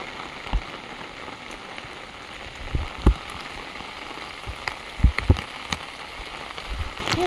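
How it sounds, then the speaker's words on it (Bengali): Heavy rain falling outdoors in open fields, a steady broad hiss of rainfall with occasional louder drops and thumps nearby, no voices. "আর বৃষ্টিটাও শুরু হয়ে গেল।"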